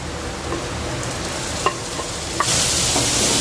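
Boiled fish fries in a pan with chopped onion, ginger, garlic and green chilli over low flame for fish ball filling, a steady close sizzle with scattered spatula scrapes and stirring clicks, growing louder near the end.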